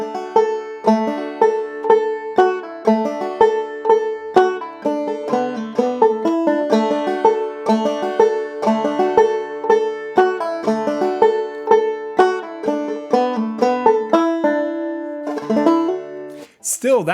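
Clawhammer banjo picks out Galax licks paired back to back in the tune Ducks on the Mill Pond, bright plucked notes in a bouncing, steady rhythm played alone and close.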